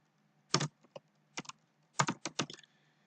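Computer keyboard typing during a C++ programming lesson, heard as a few short bursts of clacky keystrokes in two clusters, close and fairly quiet, with no talking.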